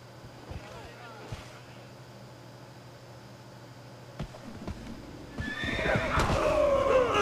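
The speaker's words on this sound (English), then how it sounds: "Killed my horse." A horse whinnies in a video game set in 1200 AD, a loud rising and falling neigh near the end after quieter thuds and ambient game noise.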